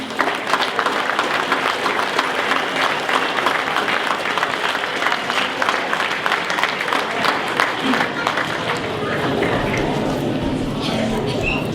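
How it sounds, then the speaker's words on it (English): Applause for the football club players at a presentation night fills the room as a steady, dense patter of clapping, with crowd murmur and some talk mixed in. "So give them a big round of applause, please."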